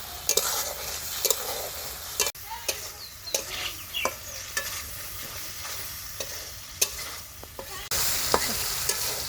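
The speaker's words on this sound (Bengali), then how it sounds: "মশলাটাকে খুব ভালোভাবে কষিয়ে নিচ্ছি।" Spice masala of chili, turmeric and coriander powder with salt sizzles in hot oil while a spoon scrapes and stirs the pan with repeated sharp clicks, close and fairly quiet.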